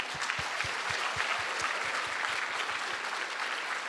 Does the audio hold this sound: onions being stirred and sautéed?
no